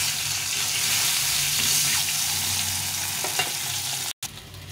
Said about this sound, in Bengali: এই মাছের মুড়োটা এখন ভেজে নেব